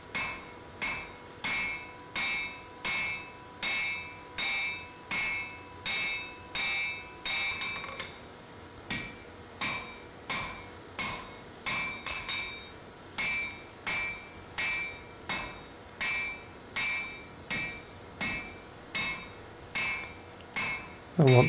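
A blacksmith draws out steel for a forge-welded Anglo-Saxon adze head, striking with a hammer on the anvil in a steady rhythm of sharp ringing blows, nearly one per second, with a brief pause midway.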